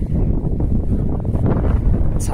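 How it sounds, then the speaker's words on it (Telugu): Cool wind at the Kalo Dungar Datta temple hilltop, a loud steady rumbling buffet of wind against the microphone that stays constant throughout. "చల్ల గాలి."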